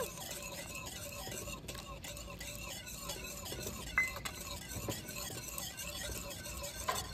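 A spoon stirs a mixture for Bengali sweet yogurt (mishti doi) in a pot, with soft scraping and light clinks, quiet and continuous, a faint hiss underneath.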